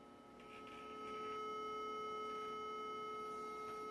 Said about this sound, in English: it will make a little bit of sound just from the frequency going through the voice coil